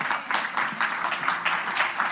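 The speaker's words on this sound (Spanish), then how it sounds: "Dale un aplauso al Señor." Sustained crowd applause in a church service, dense clapping from many hands at moderate volume, continuous for the whole stretch.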